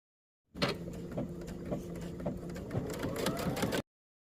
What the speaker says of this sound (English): I'm going to take these pieces to the machine and stitch them